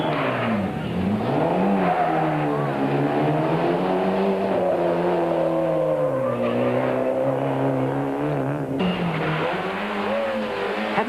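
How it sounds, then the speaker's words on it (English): A Class D rally car drives a stage on the 1993 Swartland Rally, its engine note rising and falling through gear changes and revs, loud and close throughout, with a sharp shift near the end. "Another local Class D entry with Mark Johnson at the wheel and Francois"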